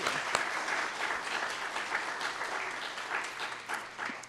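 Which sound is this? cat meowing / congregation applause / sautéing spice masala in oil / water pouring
congregation applause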